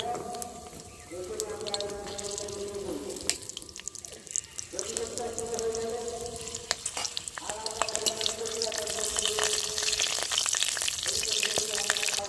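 Panch phoron spices, slit green chillies and bay leaves hit hot oil while cooking a bottle gourd dish, giving a continuous sizzle with crackles and a spoon scraping the pan, building louder toward the end as someone talks over it.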